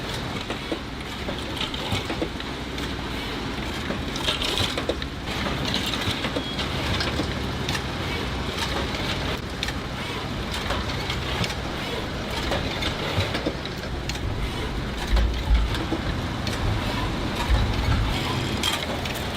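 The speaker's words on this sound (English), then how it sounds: "The machine feeds the bristles into the holes in the head of the toothbrush handle. This machine works at a blurring speed, filling 900 holes per minute" A toothbrush bristle-tufting machine runs at high speed, filling about 900 holes per minute in toothbrush heads, producing a steady, dense mechanical clatter with rapid rhythmic clicking throughout, loud and continuous with no talk.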